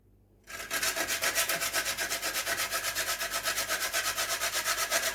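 Half a nutmeg rubbed on a Jamaican grater for sweet potato pudding, a close, rhythmic rasping scrape in quick, even strokes after a brief quiet start, with no talking.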